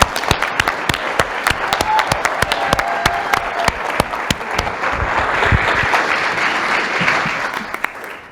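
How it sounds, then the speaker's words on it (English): Applause from a city council meeting audience in Elmhurst, a steady round of many hands clapping with a few sharper individual claps standing out, swelling slightly toward the end before tapering off. "One more round of applause"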